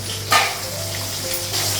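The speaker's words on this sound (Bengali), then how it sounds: "মাছটা হচ্ছে এক সাইডে ভাজা হয়ে গেছে," Fish fries steadily in hot oil in a home kitchen, giving a continuous soft sizzle with a brief louder crackle near the start and a slight swell toward the end.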